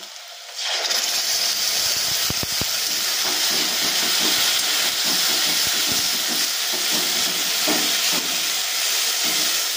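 A sudden loud sizzle bursts in as spice paste hits hot oil, then settles into a steady, hissing fry with faint crackles.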